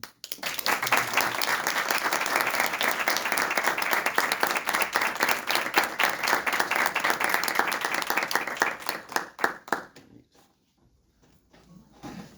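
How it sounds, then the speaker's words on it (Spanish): An audience after a science talk about saving lives with AI bursts into loud, sustained applause lasting around nine seconds, thinning into scattered claps before dropping away to near silence. "un fuerte aplauso para Fidel"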